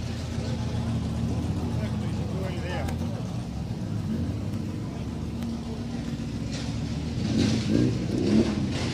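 A race car revs in a busy pit lane at the Simola Hillclimb, its engine rumbling under nearby chatter and rising to louder revs toward the end.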